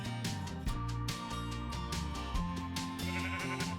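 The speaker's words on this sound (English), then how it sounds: "Push you off, sheep." A sheep in the Minecraft GregTech New Horizons modpack bleats clearly over busy game music and effects, with the bleat standing out from the mix.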